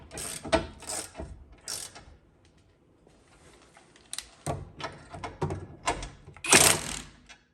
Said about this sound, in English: a ratchet that we're gonna put in reverse. And now we're gonna work the stud all the way out